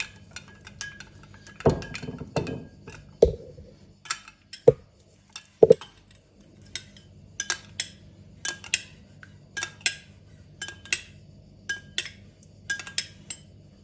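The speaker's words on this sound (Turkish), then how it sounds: "Biraz zeytinyağı, biraz pul biber, güzelce karıştırıyorum." A spoon stirs olive oil and red pepper flakes in a bowl, giving a run of sharp metallic clinks and taps at an irregular pace, clearest early on and then lighter, quicker ticks, with no one talking.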